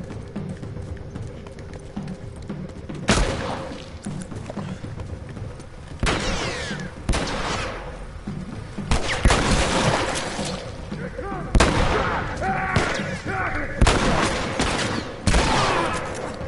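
Bursts of gunfire in The Last of Us, sharp loud cracks arriving in irregular clusters over a busy game soundscape, with someone talking now and then.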